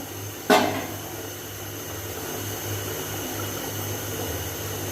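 Water boils in a covered pot for beef pulao, a steady bubbling hiss with a low hum, opening with a sharp click.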